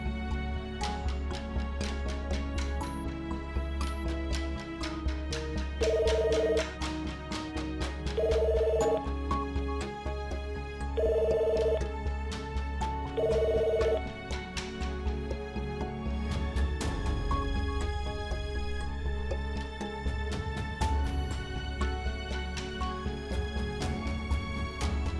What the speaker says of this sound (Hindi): सर बेल तो जा रही है लेकिन एनी फ़ोन नहीं पिक कर रही